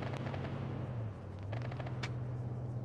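Arma 3 gunfire sounds as a few faint, distant cracks over a steady low engine-like rumble, quiet and sparse.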